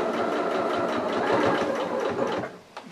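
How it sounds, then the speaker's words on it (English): A sewing machine runs steadily while stitching a Humphrey the elephant soft toy, a close, loud and continuous rapid mechanical chatter that slows and stops near the end, no talk over it. "Stop with the needle down, and then we'll sew around the rest of his tummy"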